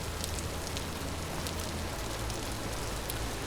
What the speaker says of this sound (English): And it's raining, so we're gonna need a little bit of a roof.